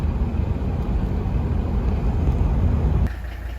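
An old Mercedes 300D diesel engine idles with a steady low rumble running continuously, then drops slightly in level near the end, with no voices present.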